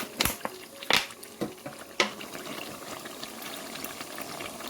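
Vinegar poured into Bombay and Naga chili pickle cooking with melted sugar: a few sharp splashes and spatters at first, easing into a steady bubbling sizzle.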